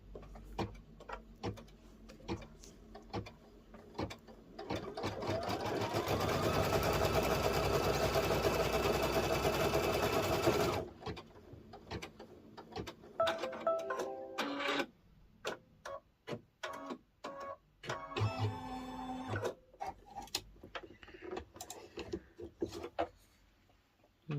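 A home embroidery machine stitches a zipper purse held in the hoop, running in a steady fast whirring burst for several seconds, then breaking into shorter clicking, ticking stitch runs and pauses, close and fairly quiet.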